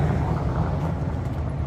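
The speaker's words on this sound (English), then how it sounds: "We've got these cars driving by right here." Cars pass along a street at night, a steady, moderately loud low rumble of traffic that continues without a break, with no talking.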